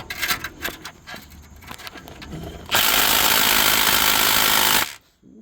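A Milwaukee power tool strains against a tight starter bolt on an Infiniti G37x-style AWD car, sounding as a loud, sustained close-up grinding burst of about two seconds after scattered clanks and handling noises, then cutting off.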